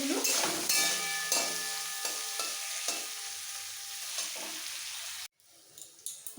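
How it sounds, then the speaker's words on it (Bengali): Bitter gourd fries in oil with turmeric in a close, crackling sizzle, with periodic stirring and scraping strokes that cut off abruptly near the end, leaving a faint quieter tail. "উচ্ছে কড়া করে ভাজা হয়ে গেছে"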